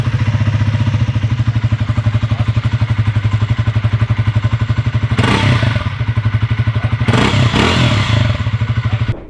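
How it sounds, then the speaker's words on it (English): A Triumph Speed T4 400cc motorcycle, with a six-speed gearbox and slip-and-assist clutch, idles with a rapid, even exhaust thump close by, broken by two sharp throttle blips that rise and fall. "let's hear the exhaust note as well."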